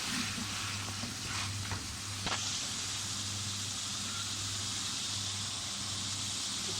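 Chicken frying in a karahi pan for a Hyderabadi chicken karahi as ground and dry coriander and other spices go in, giving a steady, dense sizzle that holds evenly throughout with no talking.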